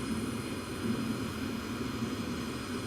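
Steady, even engine drone of a Falcon 7X business jet climbing in the FSX flight simulator, a continuous broadband roar with a faint tonal whine, moderately loud and alone without speech.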